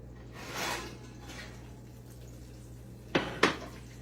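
Soft rushing hiss gives way to two sharp metallic clanks as two baking dishes with bubbling butter are pulled from a 350-degree oven, close and distinct against a quiet kitchen background.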